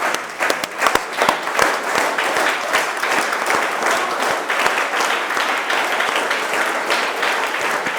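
Steady crowd applause fills a school debate winners' ceremony as madam is called to the stage, dense clapping running evenly from start to finish with a few sharper individual claps standing out early on.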